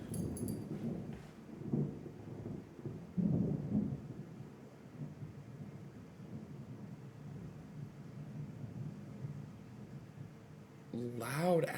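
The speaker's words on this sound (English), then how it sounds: "Loud ass thunder and lightning, bruh." Loud thunder during a storm rolls as a low, sustained rumble with swelling bursts, heard somewhat muffled and distant, while a voice talks intermittently over it.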